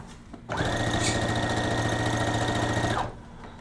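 A sewing machine set to a shortened stitch length runs in one steady, close burst of about two and a half seconds, with a fast, even mechanical whir and no voices.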